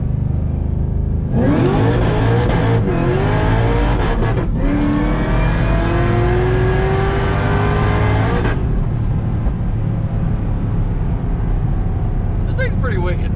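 A loud, close 800-horsepower Cadillac CTS-V on racing slicks accelerates hard with a deep engine roar. Its rising pitch breaks at several abrupt gear shifts before the engine cuts back to a steady rumble.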